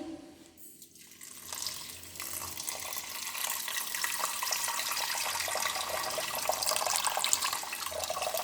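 Water pours into a cooking pot, likely a pressure cooker for drumstick-leaf curry, the splashing growing fuller and louder as it fills, with no talking.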